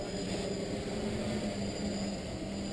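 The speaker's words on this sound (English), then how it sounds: "But this thing is hovering at below half throttle." A Locust 450 quadcopter on 4S power hovers at below half throttle, its motors giving off a steady, even whine and buzz outdoors in calm air, moderately distant and unbroken.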